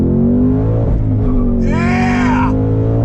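A 2021 Ford Mustang Mach 1 launches from a dead stop, a loud, steady low engine drone with a rising whine from about halfway through. It sounds close and continuous.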